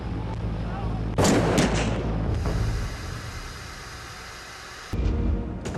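Gunshots ring out in documentary footage of the Jonestown shooting, with a sharp loud volley, a sustained noisy stretch and another crack near the end, all under a dense, harsh background.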